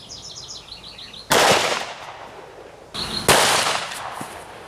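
A magnum pistol fires hollow point rounds into body armor outdoors, two sharp loud shots about two seconds apart, each with a short echoing decay, while birds chirp faintly in the background.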